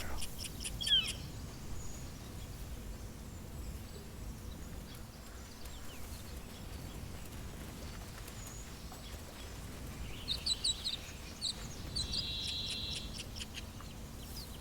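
Bird calls in a Baldur's Gate 3 outdoor area: short chirping calls come and go at moderate distance, with a bright burst of calls near the end, over a steady bed of cricket-like insect ambience.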